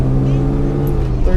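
An 1980s Mercedes-Benz car pulls away in first gear, its engine giving a loud close rising drone heard from inside the cabin, with a voice speaking over it.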